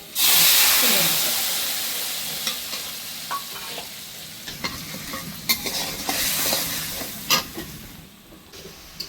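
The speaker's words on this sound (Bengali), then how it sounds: "এখন মিক্স করা মশলা ঢেলে দেব" Mixed spice masala, ground with a little water, tipped into a hot pan. It erupts into a loud hissing sizzle that slowly dies down, followed by intermittent scraping and stirring clatter.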